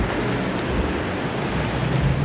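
Wind buffeting a microphone at the Tampa docks, a continuous loud rumbling roar with no talking.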